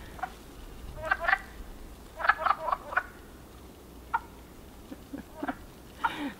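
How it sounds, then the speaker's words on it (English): Wood frogs chorus in a breeding pool: short duck-like clucking croaks come in irregular clusters, moderately close and fairly soft, with no voices over them. "That's a wood frog."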